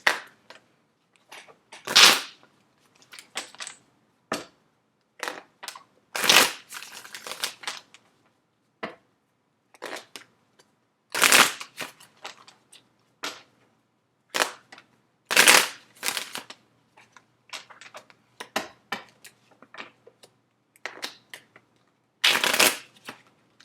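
Tarot cards are shuffled in repeated bursts of quick riffling and flicking, close up, with short silent gaps between each shuffle.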